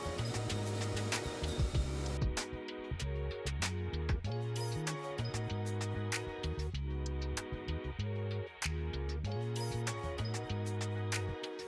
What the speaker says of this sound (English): right now we're basically just grinding that one blade that we welded on